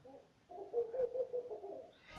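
A bird coos softly in a low, rolling, repeated call lasting about a second and a half, faint and alone with no talk.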